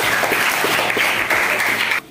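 Students clapping in a classroom, a dense, steady round of applause lasting about two seconds before it stops abruptly.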